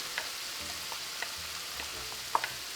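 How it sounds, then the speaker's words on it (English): Yellow and red peppers sauté quietly in a pan, a soft steady sizzle with a few light clicks and scrapes of stirring. "Now I will add the peppers, yellow and red."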